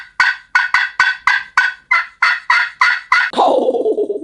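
A wild turkey gobbler lets loose a loud, close run of about ten rapid, evenly spaced gobbles, ending in a longer rolling, descending gobble, with no talking over it.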